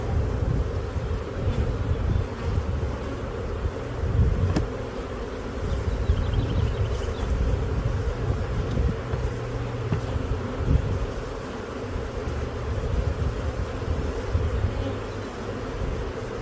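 Dense, steady buzzing of many honey bees swarming around an open hive during a hive split, a close continuous drone with no voices.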